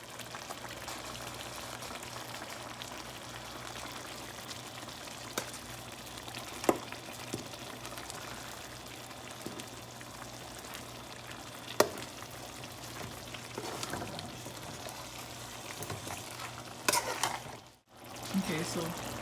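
Rice being stirred into a simmering tomato stew with fried turkey for smoky Nigerian jollof rice: a steady bubbling sizzle with occasional sharp spoon knocks against the pot, continuous and close.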